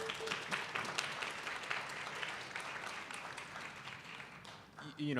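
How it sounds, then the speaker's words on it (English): Faint applause at an academic symposium, a steady crowd patter of clapping for the volunteer mentors, with a voice starting to speak as it ends. "let's give them a round of applause"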